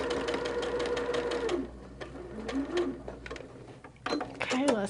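A sewing machine runs a quarter-inch seam along the edge of a holiday quilt, its steady motor whir running for a second and a half, then stopping, followed by softer handling noises and a brief renewed burst near the end.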